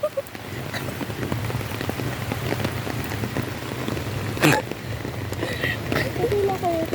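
Heavy rain falling in a steady, dense wash of drops on surfaces, loud and close throughout, with a brief louder splash midway and people talking faintly underneath.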